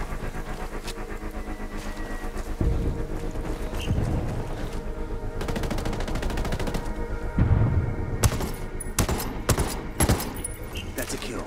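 Rapid gunfire rattles through a Ghost War PvP match in the video game, with dense bursts of shots over steady background ambience and louder sharp reports toward the end.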